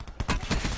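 Rapid bursts of Black Ops 4 gunfire crackle in a dense, uneven volley, several shots blending together at moderate loudness.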